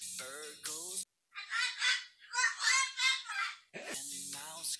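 A voice imitates a bird with squawking, honking calls in several bursts, shrill and nasal, close to the listener.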